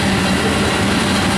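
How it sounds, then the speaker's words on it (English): A train rolls past at close range as a steady, dense rumble with a broad wash of rail noise, loud and continuous without a break. "This is that train I was seeing up at the drawbridge for hours."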